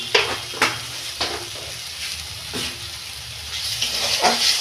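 Chana masala spices fry in a pan while being stirred, a steady close sizzle broken by several sharp scrapes and clinks of a spatula against the pan.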